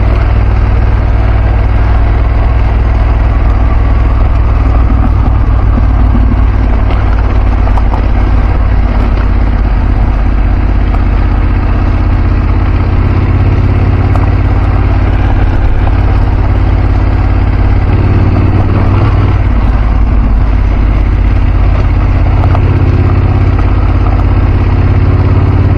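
Adventure motorcycle, a BMW F850GS or Aprilia Tuareg 660, riding a loose, strange surface on a French trail, with a steady loud engine drone and low rumble throughout and no talk.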